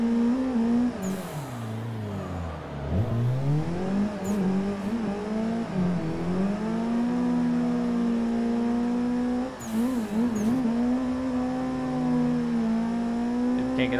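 A drift car in a racing game revs hard on repeated clutch kicks, the engine note swooping down and surging back up, then holding a loud, steady high-rpm drone.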